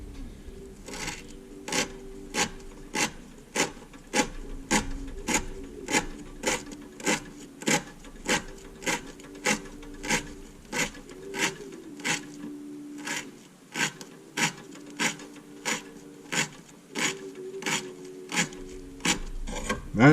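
An Opinel knife repeatedly slices through manila rope in an edge test, a regular series of sharp rasping cuts, roughly two per second, close up and with no talking.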